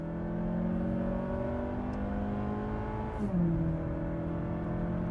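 A used Mazda 6 accelerates hard during a timed acceleration run, its engine note rising steadily in pitch, then dropping sharply at a gear change and climbing again, loud and continuous from inside the car.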